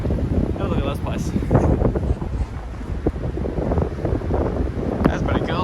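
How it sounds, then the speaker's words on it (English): Strong gusty wind buffeting the microphone outdoors beside a lake, a loud, rumbling, uneven roar that runs throughout, with a voice speaking briefly under it. "Oh man, it's windy."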